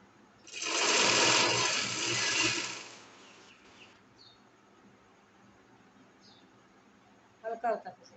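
A sewing machine stitches a small jacket for a two-year-old girl's frock suit in a steady, loud whirring burst of about two and a half seconds, then falls silent apart from faint handling sounds and a brief clatter near the end.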